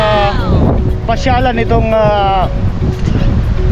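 Wind gusts buffet the microphone in Al Bidda Park in Doha, Qatar, a loud continuous low rumble that runs under a man's speech throughout.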